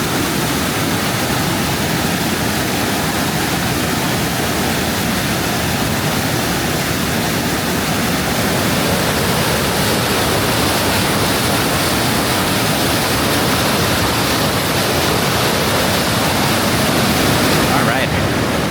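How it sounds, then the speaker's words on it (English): A river roars below Multnomah Falls in Oregon on a foggy day, a loud, dense and unbroken rush of water heard close up. "that river is roaring, powerful, beautiful, all the things"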